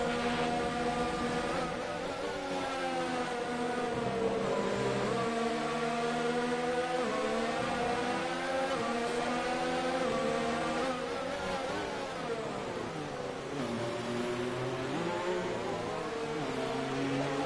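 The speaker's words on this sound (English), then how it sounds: "Don't wait too long to turn the engine down." A Williams Formula 1 car's engine in the F1 2019 video game at Silverstone during the British Grand Prix: a steady, continuous high-revving whine with rising and falling pitch through gear changes, loud and alone without talk.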